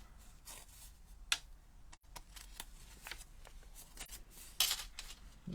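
Scissors trimming paper for a handmade Stampin' Up! card, with soft snips and paper rustles close up at a quiet level, a few sharper cuts standing out.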